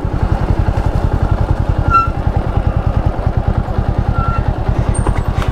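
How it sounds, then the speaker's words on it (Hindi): A motorcycle ridden along a jungle road in Tripura, its engine putting out a close, steady, rapid pulsing thump at an even pace, with faint clatter and occasional high chirps in the background. "एक जंगल में से बाइक राइड लेके आते हैं ये वाला, और इस तरह के जंगल में से बाइक चलाने का बड़ा मज़ा आता है"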